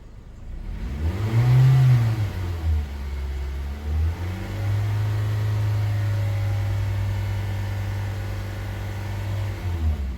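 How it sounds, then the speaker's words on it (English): A 2022 Toyota Corolla engine revs up to about 3000 RPM, rising and falling once, then holds a steady elevated drone for several seconds before easing off, heard close with no talk. "So I rev up to 3000 RPM for 5 seconds, idle for 45 seconds."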